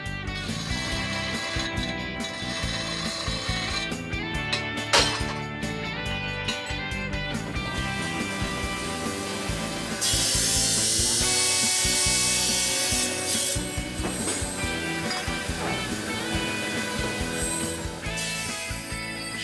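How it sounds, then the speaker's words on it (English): A horizontal cast iron and silicon carbide disc grinder works Bohemian glass with flowing abrasive, giving a steady, dense grinding rasp that continues without a break and swells slightly louder midway, with no talk over it. "shaiba is a horizontal disc grinder. The disc is made of cast iron and silicon carbide onto which flows an abrasive of varied roughness."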